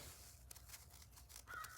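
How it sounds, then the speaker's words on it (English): Crows caw outdoors in snow, several short harsh calls spaced irregularly, faint and distant over quiet background. "You hear the birds? They don't care about the snow."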